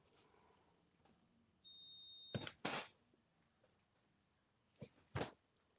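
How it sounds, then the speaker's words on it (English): A single steady electronic beep sounds for about a second in a quiet room, preceded and followed by a few short knocks and thumps, with no talking. "What beeped over here, you guys?"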